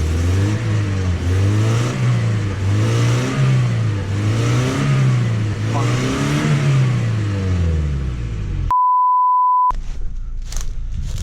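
A car engine revs in repeated rising and falling surges while reversing out of a rut, loud and close, followed by a short steady beep tone and a brief burst of noise.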